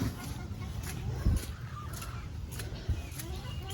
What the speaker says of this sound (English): Chickens are waiting to eat.